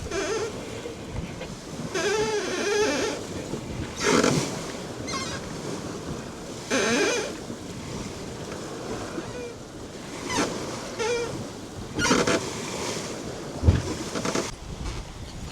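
Waves and wind roar steadily around a racing sailboat at sea on a passage from France toward Guernsey and the Solent, with repeated surging bursts of water and gusts over a constant rushing background.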